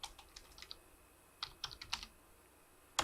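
Typing on a computer keyboard in a spreadsheet, quiet scattered key clicks in short bursts with pauses between, ending in a sharper cluster of taps.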